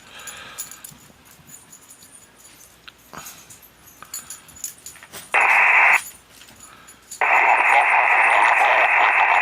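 Amateur radio static and faint chatter, then bursts of a steady bright tone that cut in loudly, pause, and return sustained as the receiver locks onto a station.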